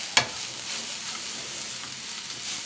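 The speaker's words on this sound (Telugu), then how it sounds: "ఇప్పుడు పసుపు, సాల్ట్ వేసి బాగా కలుపుకుంటాం." Drumstick leaves and carrot with turmeric and salt sizzle steadily in a pan, opening with one sharp clack of the spoon, then an even hiss.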